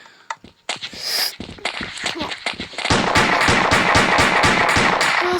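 A rapid series of sharp gunshot-like bangs, sparse at first then a fast continuous volley, loud and close.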